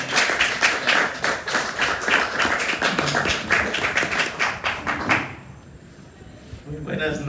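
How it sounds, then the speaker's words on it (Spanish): An audience at an evening book presentation of Maya stories claps to welcome the speaker, with a fairly loud, rhythmic run of hand claps that stops abruptly after about five seconds, followed by near-silence and then a voice. "Un aplauso para recibirlo."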